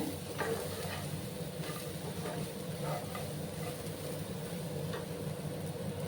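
Puffed rice mixture being stirred in a hot pan, a steady low sizzle with soft repeated scrapes and light spoon taps, close and unaccompanied by voices.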